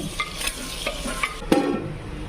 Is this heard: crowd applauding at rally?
no